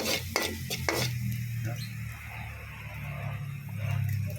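Minced garlic sautéing in oil crackles and sizzles steadily, with a few clinks of a utensil against the pan at the start.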